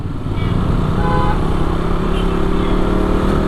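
A Yamaha MT15 motorcycle engine running steadily nearby, a loud continuous buzzing drone with a slight rising rev, heard alone.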